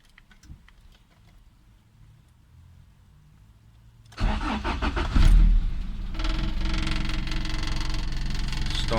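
A Honda B20 VTEC engine cranks briefly and then catches, jumping from near quiet to a loud start and settling into a steady, rough idle nearby.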